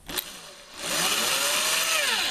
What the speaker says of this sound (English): we're going to keep the drill on slow, and maybe we could go ahead and start our hole in here